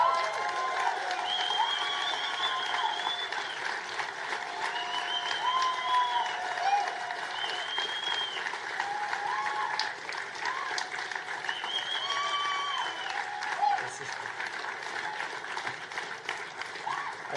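An audience at a British Columbia clean energy careers funding announcement claps steadily and loudly, with scattered cheers and whoops rising over the applause. A voice is also heard in the crowd noise.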